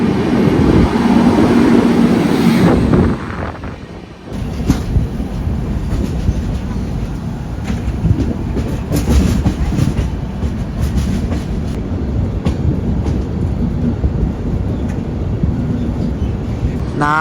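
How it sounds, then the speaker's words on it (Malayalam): A very long goods train, stretching three to four kilometres, rolls past close by near Nagpur in India, heard from aboard a passenger train as a loud, continuous rumble with steady wheel clatter and a heavier burst at the start. "ഇത് 3-4 കിലോമീറ്റർ ലെങ്ത് വരുന്ന ഒരു ഗുഡ്സ് ട്രെയിനാ."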